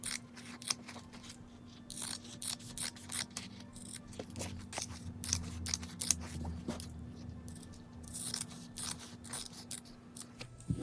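Scissors snip close by through sewn fabric seams, a run of quiet, irregular clicks and cuts over a steady low hum.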